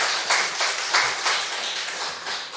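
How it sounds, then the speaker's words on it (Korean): Church congregation clapping hands together during a Sunday service at Yeil Holiness Church, a steady rhythmic run of crisp claps filling a 2.6-second stretch at moderate, even loudness with no talk. "박수 한번 하겠습니다."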